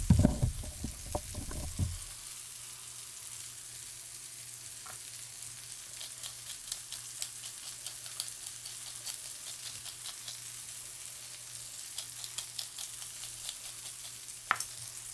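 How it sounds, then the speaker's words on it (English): Fatty meat sears in a pan with chili oil for taco filling, a steady soft sizzle after a louder burst of sputtering at the start, with scattered small pops and crackles throughout. "We want to make sure we render that fat, get it searing."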